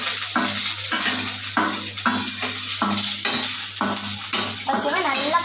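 Onions sauté in a pan for tomato chutney, a spatula scraping in a steady repeated rhythm over a constant low hum, with a brief voice near the end.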